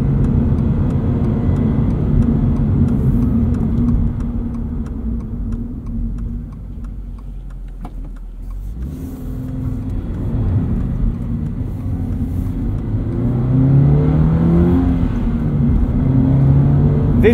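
A 2022 Subaru BRZ with a 4.3 limited-slip differential accelerates in first gear, the engine note rising and then dipping at a shift before climbing again, steady and prominent inside the cabin with brief talk.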